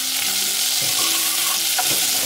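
Spice powders stirred into a frying pan, a loud continuous sizzle with soft scraping of the spoon through the oil, alone and close.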